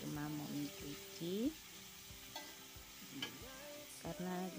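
Anchovies (teri medan) stir-fried with papaya leaves in a pan: close, soft sizzling with repeated scraping stirs, under a faint background voice.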